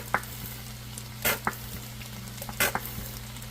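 Oxtail stew with a little ketchup sizzling in a pot while a spoon stirs it, steady frying hiss broken by a few scraping strokes and clinks, close and moderately loud.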